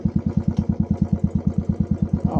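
Close and loud, a Bullet motorcycle plods down a rural track with a steady, rapid thump-thump from its single cylinder, swelling slightly toward the end, no voices over it.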